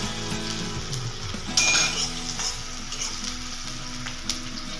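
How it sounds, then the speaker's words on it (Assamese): Garlic fries in a pan, giving a steady close sizzle, while a utensil stirs it with occasional metallic clinks and scrapes. "অলপ লৰাই দিছোঁ।"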